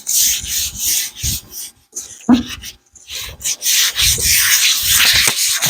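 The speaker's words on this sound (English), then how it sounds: "I'm gonna scuff up this side just a little bit, dry scuff up" Car bumper dry-scuffed by hand before clear coat is applied outdoors, heard as close, loud rhythmic rubbing and rasping strokes in quick bursts with brief pauses between them.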